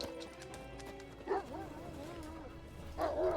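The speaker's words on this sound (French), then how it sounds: "Un chien qui a boubou." A dog barks in The Witcher 3, a few short yelps rising over continuous game music and ambient sound, with a louder burst around the middle and another near the end.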